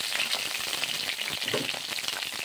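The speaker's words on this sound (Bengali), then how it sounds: "এই তেলের মধ্যে দিয়ে ভালো করে ভেজে নিচ্ছি" Pieces of pointed gourd (potol) fry in hot mustard oil, giving a steady, close, dense sizzle that holds without a break.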